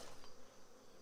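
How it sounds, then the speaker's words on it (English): Honey bees swarm around a busy hive, their steady buzzing close and continuous, with a soft hum rising and falling over a second. "see how busy this hive is"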